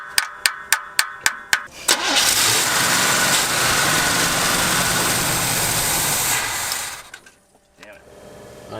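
A forgotten GMC truck engine with a carburetor cranks in several rhythmic bursts, then catches and runs loud and rough for about five seconds before stumbling and dying, with faint activity after.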